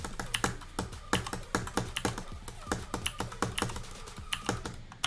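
Rapid, crisp mouse micro-clicks while playing a level, a quick uneven stream of light taps close to the microphone, repeating throughout with no talk.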